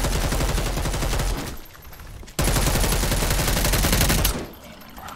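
A new weapon in the zombie game Dead Island 2 fires in loud, rapid automatic bursts, a long stream, a brief pause, then another sustained burst, close and dominant with no talk.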